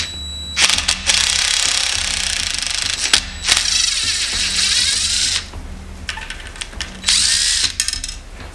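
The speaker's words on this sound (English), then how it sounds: "I'm going to drill a really, really deep hole into these for the inserts and the toilet bolts" A power drill bores deep holes into wood to take 1/4-20 threaded brass inserts for a benchtop router table, running loud in several long bursts with short pauses between them.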